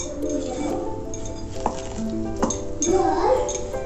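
A spoon stirs hot water into rice flour for kaliyadakka dough, clinking and scraping against a vessel in irregular strokes over a few seconds, with a faint background hum and no talking.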